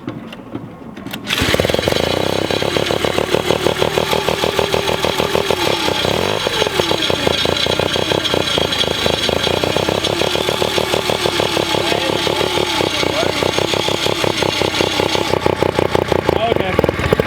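A turbocharged rotary engine on a minibike catches after a few seconds of quiet, then runs loudly with a steady buzzing drone and small rises in revs. Faint voices sit under it.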